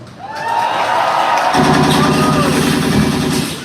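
Theme park audience at a live stunt show cheering and shouting loudly, a sustained crowd roar that swells partway through and holds for a few seconds.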